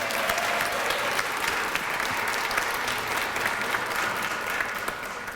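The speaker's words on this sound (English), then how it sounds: "Our comptroller, give her a big round of applause." An award-ceremony audience at a Women's History Month event applauds the comptroller with sustained, dense clapping that holds a steady level from start to finish.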